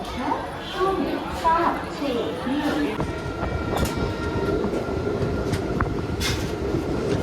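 A train rumbles and clatters along the rails at Tirupati railway station, steady and close, with brief hisses and clanks and muffled voices in the background.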